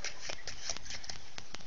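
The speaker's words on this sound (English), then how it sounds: "now we're just going to shuffle them" Playing cards being shuffled by hand during a close-up card trick, a run of quick riffling bursts and soft slaps repeating steadily for under two seconds, close and fairly clear.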